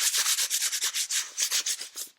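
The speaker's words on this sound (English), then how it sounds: "just using my hand I can rub off" A hand rubs dried grainy bits of tea off a painted sheet of paper, producing close, dry scratchy swishes in a quick back-and-forth rhythm with no voices.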